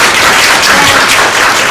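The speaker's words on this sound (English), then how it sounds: "you should give her applause for yourself" An audience at a talk on cultural competency claps together. The applause is a dense, loud wash of claps that fills the whole short stretch without pause or voices.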